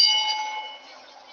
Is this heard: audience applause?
no